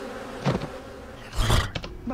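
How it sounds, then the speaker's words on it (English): Video game bees in Tigger's Honey Hunt buzz in two short, swelling bursts, with a quieter hum in between. "Oh, there are the bees."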